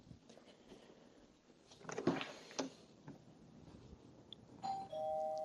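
A doorbell chimes during dog training at home for guests arriving, a short ringing tone near the end after some softer knocks and rustles, fairly close and clear.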